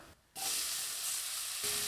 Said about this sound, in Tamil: இதில் தான் இப்போ நம்ம பன்னீர் சேர்த்துக்கலாம்.